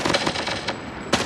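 Rapid gunfire from shooting an enemy in a multiplayer video game, a fast burst of close, sharp shots that repeat densely, then a short break and one more loud shot at the end.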